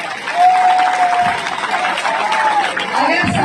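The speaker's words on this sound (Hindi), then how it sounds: "मेरी तरफ से आप एक बार इनके लिए तालियां बजा दें।" An audience claps together in a steady burst of applause at a public speech event, sustained throughout and fairly close, with crowd noise mixed in.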